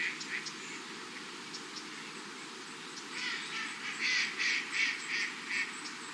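A mandarin duck calls on the water with a run of short, nasal, repeated notes that are faint at first and grow louder and more frequent toward the end, over a low steady background rumble.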